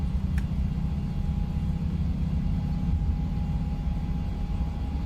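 Airliner engines roaring steadily on the takeoff roll in a Boeing 737 flight simulator game, a constant loud low rumble with a faint steady whine above it.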